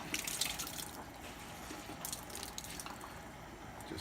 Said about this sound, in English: I'm going to squeeze out the water